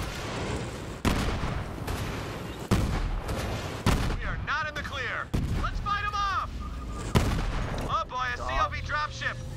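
Repeated booming blasts and gunfire punctuate a Borderlands 3 video game battle, with whistling, warbling electronic effects between the heavy thuds.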